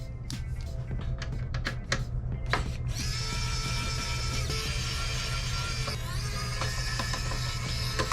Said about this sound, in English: there's 5 Phillips screws that hold it in. We're gonna switch to a bigger Phillips head.